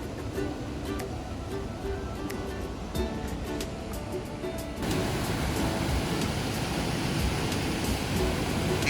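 Water rushes steadily through the Needle Dam in Lucerne. The roar is continuous and broadband, and it grows louder and denser about halfway through.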